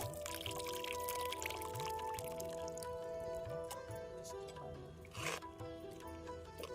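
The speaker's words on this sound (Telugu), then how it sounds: "మనం అప్పుడు సాంబార్కి ఆ పప్పుకి తగినంత చింతపండు పులుసు వేసుకుంటామండి." Tamarind extract is poured into cooked dal while making sambar, giving a soft liquid pouring and dripping sound in a quiet kitchen with faint background hum.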